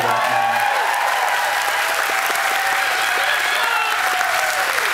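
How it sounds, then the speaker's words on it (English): Dense, even applause from a cruise ship audience at a morning show, loud and continuous from start to finish with no break. "please, applause for that"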